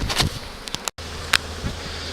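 Agitated honey bees buzz loudly around an open hive during an inspection, a dense continuous drone with individual insects zipping close past, broken briefly by a split-second cut.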